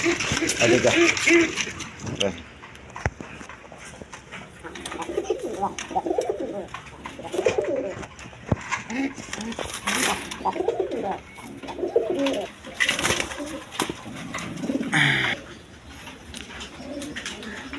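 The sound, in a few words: pigeon cooing while sitting on eggs in a pot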